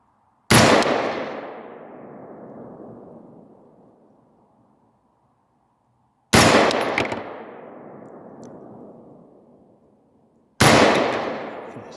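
Three loud, sharp gunshots from a handgun fitted with a Holosun 503G sight, each a hard crack with a ringing outdoor decay, spaced several seconds apart.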